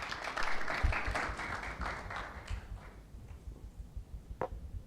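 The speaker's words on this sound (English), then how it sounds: "round of applause" Applause at a Tanzanian finance series event, a burst of dense clapping that thins after a couple of seconds into scattered claps and taps at moderate volume.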